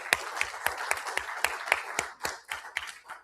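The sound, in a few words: applause for the bidders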